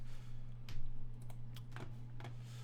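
Keys clacking on a computer keyboard in quick, uneven bursts, fairly faint over a steady low electrical hum.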